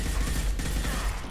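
Gun firing in Mass Effect 2: a dense, continuous barrage of loud shots and impacts blending into a steady roar, with no clear gaps.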